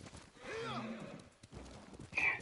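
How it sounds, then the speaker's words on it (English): Horses in the video game Ghost of Tsushima give a whinnying neigh at moderate distance, joined by a soft clip-clop of hooves and a sharper high call near the end, all quiet within the game's ambience. "Oh, look at the horses."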